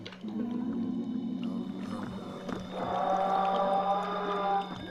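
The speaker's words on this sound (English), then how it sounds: "you hear that roar? That's the Shoggoth." Low, droning roar of a Shoggoth monster in the video game Eldritch, a sustained rumbling growl with eerie tonal overtones that swells louder midway and fills the whole stretch.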